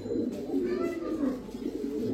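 A racer pigeon coos nearby in low, throaty, repeated bubbling calls, fairly soft with light background noise.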